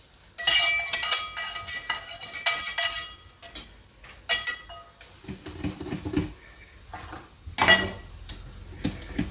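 A spoon stirs garnish into thick curry in a pot, making bursts of metallic clatter and scraping against the vessel between quieter gaps. No one speaks.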